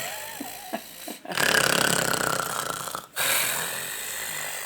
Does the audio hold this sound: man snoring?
yes